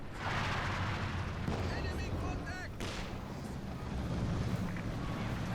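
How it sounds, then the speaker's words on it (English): Artillery barrage from an ISG infantry gun in a World War II strategy game rumbles as a continuous heavy roar with a few sharper blasts. Whistling tones cut through partway, and a voice talks over it briefly. "Oof, that ISG, nice barrage there"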